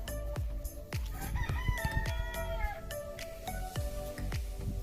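Several chickens, Cream Legbars, cluck nearby in a grow-out pen while a rooster crows once or twice, with scattered thumps and rustling around them.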